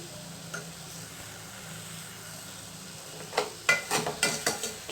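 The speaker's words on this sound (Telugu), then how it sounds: "షుగర్ యాడ్ చేసుకున్నాక ఇందులో బాగా షుగర్ అనేది మెల్ట్ అయ్యే వరకు కలుపుకోండి" Halwa with sugar melting in a pan is stirred after a quiet stretch of low sizzling, ending in a rapid run of rhythmic spoon scrapes and taps against the pan.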